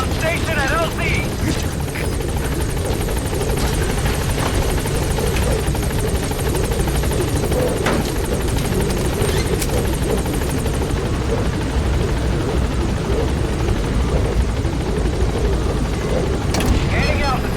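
The Pequod helicopter in Metal Gear Solid 5 gives a constant loud rotor roar and whine close by for the whole stretch, with faint game voices under it.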